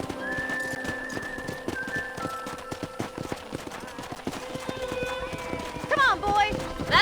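Horse hooves clip-clop near a corral in the Red Dead Redemption video game, with a brief whinny and whistle near the end, all under steady music and ambient game sound.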